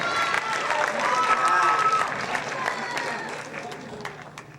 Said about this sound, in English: Please give Sergio a round of applause and bring him onto our stage.